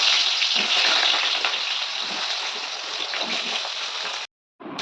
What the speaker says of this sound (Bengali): আমি এখানে একটু কুমড়ো আর একটু ঝিঙে দিয়ে দিয়েছি তো এটাকে ভালোভাবে ভেজে নেব পুঁই শাকের জন্য